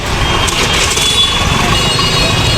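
Jammed traffic waits at a signal near Azad Maidan in Mumbai during a Maratha rally, a loud, dense wash of idling trucks and buses with a thin reversing beep running through the steady din.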